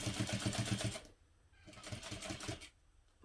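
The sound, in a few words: sewing machine stitching a tote handle facing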